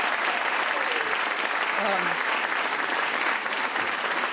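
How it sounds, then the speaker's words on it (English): An audience at a community event gives sustained applause, a dense, even roar of many hands clapping that holds at full strength throughout, with faint voices mixed underneath. "please give them another round of applause"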